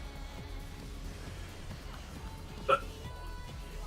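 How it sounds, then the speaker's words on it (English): A single short hiccup, brief and fairly clear over a low background hum, with voices faintly talking around it. "That was a hiccup."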